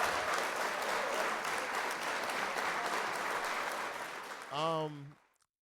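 Steady hand clapping in honor of the Beatles, dense and continuous at close range, ending in a brief burst of noisy overlapping sound before cutting off.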